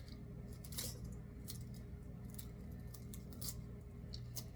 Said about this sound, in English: So we're just going to cut these rings out here.